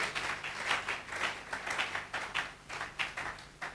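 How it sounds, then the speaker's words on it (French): A church congregation applauding together, a faint, rhythmic clapping that rises and falls in steady beats, heard from a distance. "Acclamons pour la parole de Dieu."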